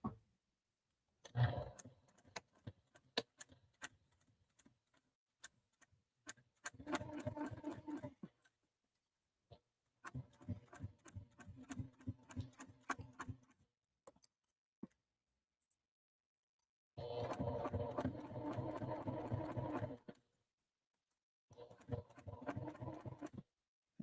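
A sewing machine basting lining fabric runs in several rapid, steady stitching bursts separated by pauses and scattered clicks, close and clear with no talking.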